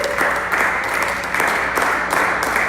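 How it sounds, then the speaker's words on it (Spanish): Applause at a church service: a congregation claps loudly and steadily in a dense, continuous burst with a slight rhythmic pulse, close and full, brief and without talk. "Un aplauso fuerte al Rey."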